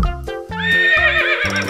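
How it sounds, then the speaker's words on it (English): A horse lets out a loud, close whinny, a rising, quavering neigh over rhythmic low pulses. "Horse."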